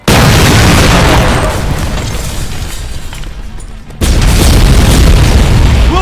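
A massive detonation blast in the Terminator Extinction video game starts abruptly and roars loudly, decays into a rumbling tail, then a second heavy boom hits and keeps thundering.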